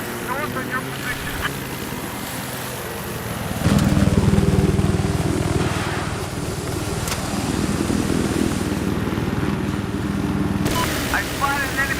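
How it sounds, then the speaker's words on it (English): An enemy helicopter in a military shooter video game: a loud, steady rotor and engine drone that swells partway through and holds, under radio-style voice callouts and other game noise. "I spotted an enemy chopper."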